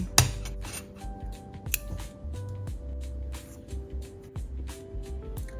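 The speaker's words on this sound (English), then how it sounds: "Cut your yarn" Scissors snipping through crochet yarn close by, a few sharp crisp cuts with small clicks and handling rustle in between, no voices.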